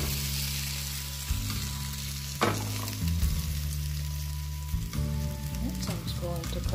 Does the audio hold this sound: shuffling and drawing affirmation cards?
no